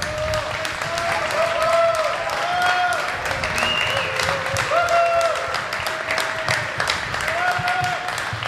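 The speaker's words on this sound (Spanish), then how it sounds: "Un fuerte aplauso, por favor." Audience at a Mexican electoral tribunal event applauds to welcome a magistrate, a steady wash of clapping throughout while a voice speaks over it.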